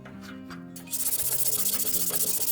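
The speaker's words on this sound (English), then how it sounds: "Just like before, with the quick sanding" Wet sandpaper rubs a fan motor shaft from a broken shop fan, starting as a softer scrape and then becoming a steady, rapid back-and-forth rasp, close and loud.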